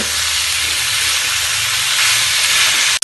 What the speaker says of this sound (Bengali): আলু ফুলকপিগুলোকে ভেজে নেব